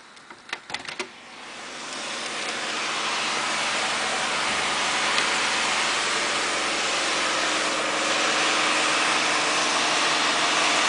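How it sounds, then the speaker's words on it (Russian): At about 3 a.m. a street-washing vehicle cleans the road outside an apartment balcony, a steady broad rushing spray of water with an engine hum that swells after a few faint knocks and holds constant. "Вот они моют улицы."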